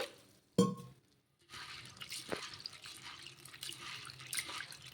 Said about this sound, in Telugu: ఇలా వాటర్ వేసేసుకొని ఒక రెండు మూడు సార్లు కడిగేసుకొని